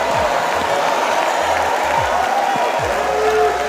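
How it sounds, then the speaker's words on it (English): An audience applauds steadily throughout, a dense wash of clapping with faint tonal sounds underneath. "I'm going to give you 3 minutes to clap off of that"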